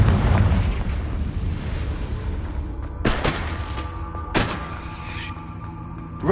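Blasting-curse explosions in a Harry Potter video game hit as two sharp booms with ringing tails over a constant noisy game background, no speech heard.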